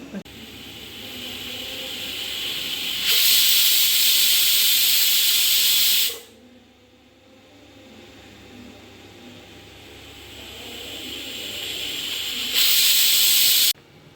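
Loud hissing bursts of steam from a pressure cooker whistle while cooking chicken curry, two long blasts separated by a quieter stretch with faint background noise.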